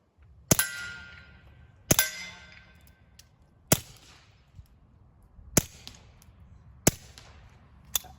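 Suppressed Beretta 71 pistol firing CCI standard velocity 1070 fps ammunition, five sharp muffled shots spaced about one to two seconds apart, each a crisp close report with a short metallic clang and brief decay, no talking.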